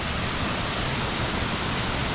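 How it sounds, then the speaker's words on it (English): Small waterfall in a Sydney bush basin at Kentlyn, water pouring down into a river pool after recent rain, a steady close broadband rush without pause, with no voices. "Amazing little waterfall here."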